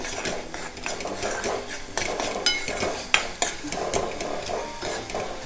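Clam masala with turmeric sautéing in a pan, with a constant sizzle under repeated metal spoon scrapes and clinks against the pan, close by, with no talking.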